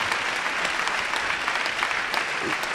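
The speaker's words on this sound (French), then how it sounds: "Je voudrais qu'on les applaudisse, ils ont été géniaux." An audience at a junior enterprise club conference-debate applauds four panelists, a dense, steady clapping that fills the room without a break.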